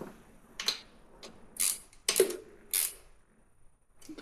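Short bursts of ratchet clicking tightening bolts on a 1995 Mustang GT 5.0 H.O. during a fuel injector replacement, several separate close ratcheting runs with quiet gaps between them.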